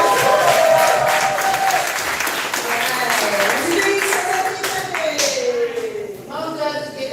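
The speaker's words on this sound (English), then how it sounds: "Y'all clap for the board now." A poetry slam crowd claps loudly and raggedly after a score is announced, many hands close by, while voices call out and sustained vocal tones run through the clapping.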